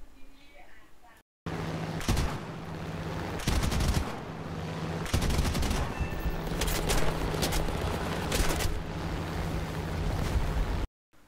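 Machine guns mounted in the center of an American fighter plane's nose in War Thunder, sustained loud bursts of rapid gunfire roaring over engine drone, broken by brief pauses between volleys.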